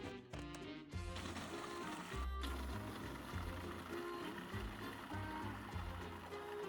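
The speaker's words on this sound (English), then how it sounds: "add everything together into the food processor and turn it on and let the machine run" A food processor blends an Oreo cheesecake mixture, its motor giving a steady, faint whirring drone with a slight shift in pitch near the start, and no one speaking.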